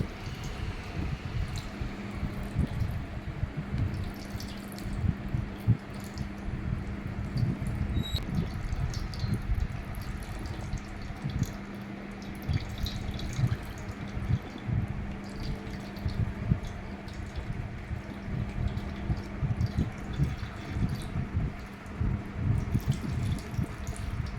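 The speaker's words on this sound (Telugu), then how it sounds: "ఇలాగ మనం చేతితోనే పిండుకొని ఎంత వీలైతే అంత తీసేసి వాటర్" Water drips and splashes steadily as grated ash gourd is squeezed by hand, a continuous soft trickling with a low hum underneath.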